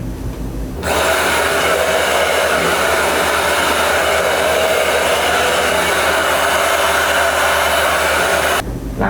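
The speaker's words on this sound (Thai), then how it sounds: "หลังจากที่เรา สระผมแล้วเนี่ยให้เรา เริ่มเป่าผมให้แห้ง" A hair dryer blows hair dry after washing, switching on abruptly and roaring in a steady, loud, close whoosh for about eight seconds before cutting off.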